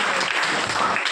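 A brief burst of dense, even clapping from a classroom audience at a coaching class event, steady and close for about a second.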